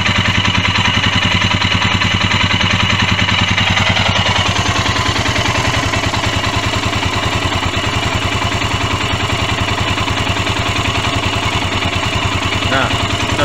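A Royal Enfield motorcycle with a starting problem idles loud and close, its single-cylinder thump pulsing steadily while the engine note shifts under adjustment; faint talk sits underneath.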